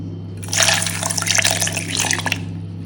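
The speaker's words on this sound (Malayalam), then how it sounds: "ഇനി നമ്മൾക്കിതിൽ പാല്." Milk pours in a steady, close splashing stream into a container of dragon fruit juice with sugar, running for about two seconds over a constant low electrical hum.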